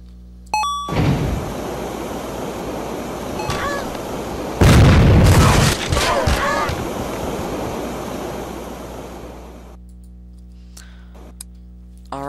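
A fly cannon in the video game Happy Wheels fires with a heavy, roaring blast of rushing noise, one burst louder than the rest, fading out after several seconds.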